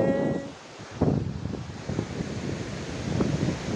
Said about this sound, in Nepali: हावा